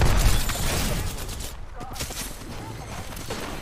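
Apex Legends gunfire, a dense rattling burst that is loudest at the start and then tapers into scattered shots and game noise, up close and heavy.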